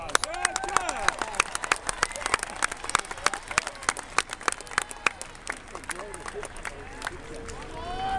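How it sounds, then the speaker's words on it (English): Outdoor caber toss event crowd applauding an athlete, dense scattered claps from a mid-distance audience lasting throughout, with a voice talking over the clapping. "Let's give Chad a round of applause."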